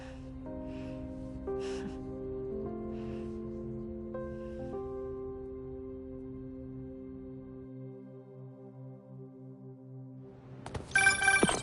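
A telephone in the Spider-Man 2 video game rings in repeated electronic tones with a held sustained pitch, clear and alone, ending in a short burst of louder noise.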